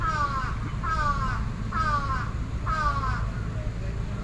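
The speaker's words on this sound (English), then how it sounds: "Yeah, we got a lot of crows here." Crows calling beside a small stream in Sapporo, four loud caws spaced about a second apart over the steady rush of flowing water.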